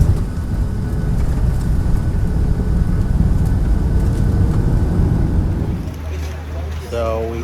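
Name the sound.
airplane landing at Dulles Airport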